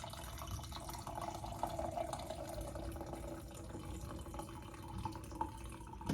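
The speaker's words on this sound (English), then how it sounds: "pouring off a cup of coffee" Coffee poured from a French press into a cup, a faint, steady trickle of liquid lasting several seconds, quiet and close with no talking.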